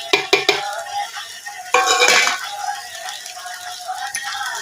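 Spoon scraping and clinking in a pan while raw masala is stirred for biryani, a few quick metallic knocks then a longer stirring scrape, close and moderately loud with no talk.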